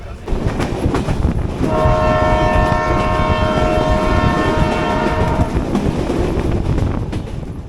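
A train runs toward Paksey railway station with a loud, close rumble throughout. A long, sustained horn blast sounds through the middle of the clip over the rolling noise of the wheels.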